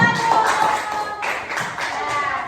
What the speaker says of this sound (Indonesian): Mungkin boleh tepuk tangan untuk kelompok